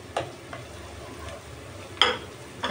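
Garlic frying in a pan alongside ginger, a soft low sizzle with a few sharp stirring clicks and scrapes, close and quiet, no talking.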